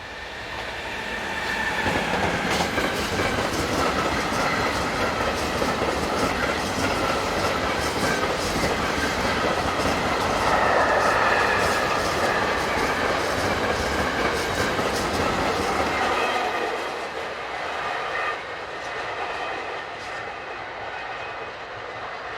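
A long works train in Germany passes loudly and close, wheels clattering in a steady roar with faint squeals, then the noise thins and recedes.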